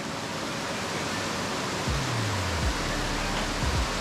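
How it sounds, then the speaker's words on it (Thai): Wang Tak Yi waterfall in Phu Wiang National Park gives a constant, close, broadband rushing roar of falling water, with a few faint low rumbles briefly under it. "ตอนนี้เราก็ถึงแล้วนะครับ น้ำตก วังตักยิ่"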